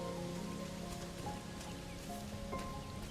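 Rainfall in a video game, a faint, even patter of drops on surfaces that holds steady under a low hum of background game tones.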